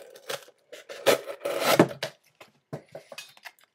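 A hollow-ground knife slices through a test material in a series of short, close, scraping and crunching strokes, some quick and some drawn out. Brief pauses separate the strokes.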